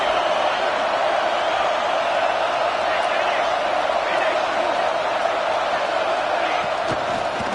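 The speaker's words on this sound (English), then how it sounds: "This crowd is trying to inspire this defense to make a big red zone stop." Stadium crowd noise at a college football game, a steady loud roar of cheering fans filling the whole stretch as they urge the defense on, with no break or lull.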